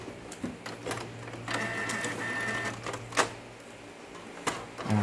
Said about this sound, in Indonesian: kalau normalnya kan harus geser ke kiri, ke kanan dulu, baru parkir ke tengah